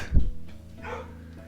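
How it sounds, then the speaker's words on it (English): A pet dog at home gives one short bark, then whines and yips faintly in the background. "What the fuck is my dog going off at now?"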